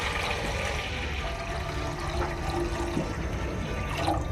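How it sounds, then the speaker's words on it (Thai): Plain water, roughly 800 ml, pouring into a cooking pot for a Thai sour curry, a steady continuous splashing stream running the whole time at close range. "จะใส่น้ำเปล่าลงไปนะคะ ประมาณ 800 ml ค่ะ"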